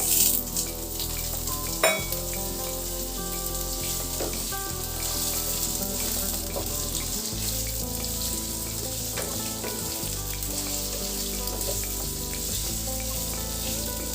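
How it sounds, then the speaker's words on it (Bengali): Potato pieces frying with ginger and garlic sizzle steadily in hot oil, with occasional stirring scrapes and a sharp clink near the start, continuous and close with no talking. "আদা রসুনের সাথে আলুটাও ভালো করে ভেজে নেব"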